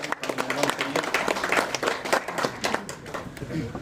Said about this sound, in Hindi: जोरदार तालियों से इनका स्वागत करेंगे